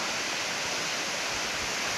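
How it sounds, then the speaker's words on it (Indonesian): Air Terjun Trangon Rebee, a waterfall beside a lake, roars as a loud, steady, unbroken rush of falling water filling the whole scene, with no voices or other sounds over it. "Kita bisa melihat air terjun langsung"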